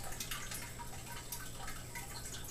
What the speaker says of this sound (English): When the water comes up through that black tube and into the siphon, it'll go down through the center of the siphon